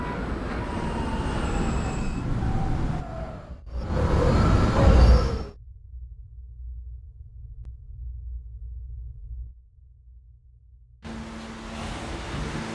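An R160A New York subway train on the E line rumbles along with loud swelling rail noise, then falls to a low steady hum and a near quiet stretch before the running noise comes back.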